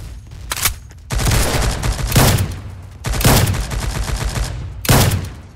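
Rapid bursts of gunfire from the video game Fortnite/Roblox: four loud, close volleys of fast-repeating shots, separated by short gaps of quiet.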